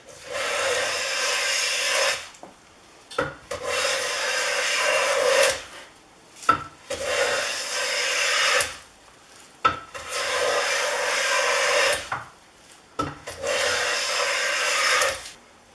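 A Stanley No.6 fore plane is pushed over a 2 5/16 inch wide piece of cherry wood, giving five long, steady rasping strokes with short quiet pauses between them, close and alone.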